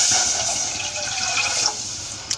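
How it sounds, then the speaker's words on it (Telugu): Water pours steadily into a kadai set on a lit stove for an egg-piece curry, a broad continuous splashing rush that stays fairly loud throughout, with a faint clink near the end. "ఇప్పుడు ఇందులో వాటర్ పోసుకోవాలి"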